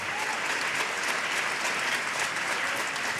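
Steady, dense applause from a television studio audience, unbroken and even throughout, with no voices rising above the clapping.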